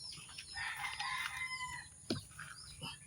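Chickens clucking and a rooster crowing in the distance at feeding time, faint against a soft outdoor background.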